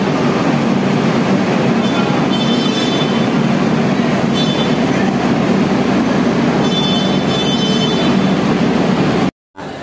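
The Sealdah–Puri Duronto Express sits at a platform at Sealdah station, with a loud continuous rumble of rail and station noise, faint metallic squeals coming and going, then a sudden cut at the end.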